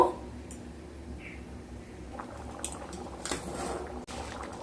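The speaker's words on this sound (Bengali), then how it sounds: "এবার পাঁচ মিনিট হাই স্টিমে ভালোভাবে ফুটিয়ে নেব" Mung dal with summer vegetables bubbles on high heat in a pot, a faint, steady low simmer with a few soft clinks and splashes, and no talk.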